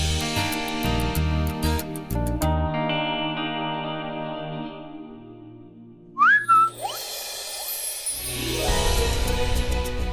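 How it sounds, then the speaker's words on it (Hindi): A person whistles, heard alongside a heavily processed, echoing sound with chorus-like tones that sustains, briefly breaks, then swells again, no talk. "बात करनी है तो बात करो ना, सीटी क्यों बजा रहे हो?"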